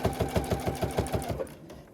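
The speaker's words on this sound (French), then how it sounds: "on fait tout simplement coudre à 1/4 de pouce" A sewing machine stitches jelly roll rug strips in a fast, even run of about a dozen close, mechanical thumps, then slows and stops near the end.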